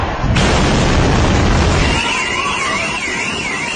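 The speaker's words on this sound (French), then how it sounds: "Le bruit assourdissant des explosions" Explosions from Iranian missile strikes in Israel: a loud, dense roaring blast that fills the first two seconds, then gives way to a wavering siren-like tone over lingering rumble.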